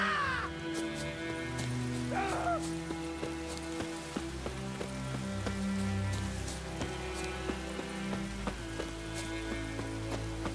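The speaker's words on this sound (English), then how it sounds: "Let it rain." Steady rain patters in The Witcher 3, mixed with crow caws and layered game ambience and tones, a constant wet hiss underneath.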